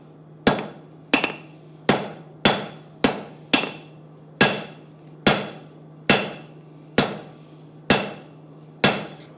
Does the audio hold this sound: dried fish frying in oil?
no